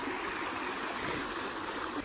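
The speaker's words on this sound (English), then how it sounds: "we come across this gorgeous river. This is the River Avon." The River Avon near Bath flowing over a rocky river step, a steady broadband rush of water, close and continuous with no talking.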